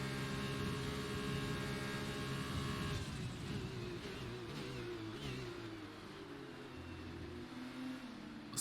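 An F2 race car engine in a racing video game set in Italy drones steadily with shifting harmonic whine, easing off in pitch as the car slows, with a short click at the very end.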